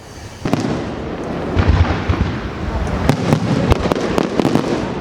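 Fiesta firecrackers going off in the streets of Benidorm, a rapid irregular string of sharp cracks and bangs, loud and near, with crowd noise underneath.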